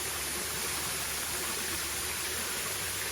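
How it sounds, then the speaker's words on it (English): Small waterfall where a side stream joins and triples the flow, in a narrow slot canyon on a remote off-trail hike; a steady, close, full-band rush of falling water runs without a break and with no voices. "I'm standing right on top of a nice waterfall"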